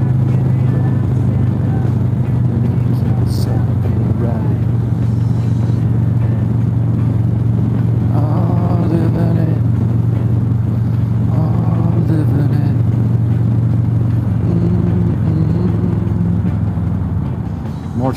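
A motorcycle with a 114 engine, torque cam, headers and intake hums steadily while riding through traffic, a loud constant low drone with wind rush throughout and brief engine swells.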